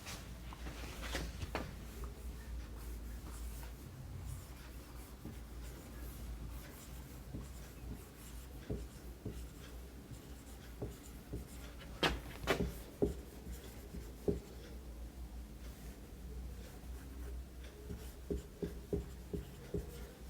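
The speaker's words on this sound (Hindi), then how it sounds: "उसमें लिख देता हूँ मैं एक बार बोर्ड पर।" Marker or chalk scratching and tapping on a classroom board, soft continuous strokes with occasional sharper taps over a low steady room hum, no talking.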